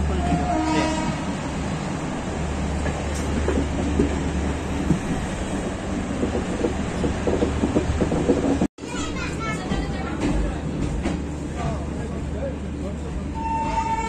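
The 12204 Garib Rath Express runs near Barauni Junction, running about three hours late: a steady, loud rolling rumble of the train continues throughout, with a brief dropout partway and faint voices in the background.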